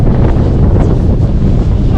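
Strong wind buffets a boat on a glacier lake in New Zealand, a loud, steady roar that fills the whole clip without pause, with water faintly washing beneath.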